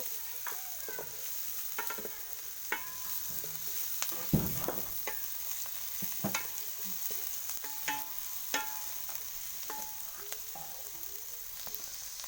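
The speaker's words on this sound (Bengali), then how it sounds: "পেঁয়াজ কিন্তু আমি বাদামি হওয়ার জন্য একটু রেখে দিয়েছি" Onions fry in a pan until brown, a steady hissing sizzle throughout with occasional scrapes and clicks of a utensil stirring, close and moderately loud.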